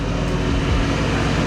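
An Audi RS6 with a Redstar exhaust, stage 2 tune and the limiter removed roars loudly and close for a sustained moment, a deep throaty engine note with no speech.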